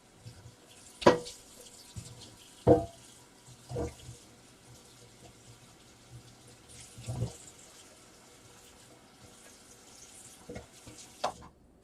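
A tap runs into a sink in a room during art journal work, heard in several short bursts of splashing water separated by quieter gaps, fairly faint and with no talk.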